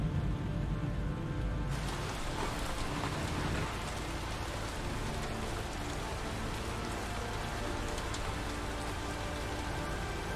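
Heavy rain in the Heavy Rain PC demo pours as a dense, steady broadband wash, loud throughout, with a brief low rumble near the start and no talking.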